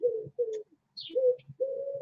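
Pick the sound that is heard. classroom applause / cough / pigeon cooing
pigeon cooing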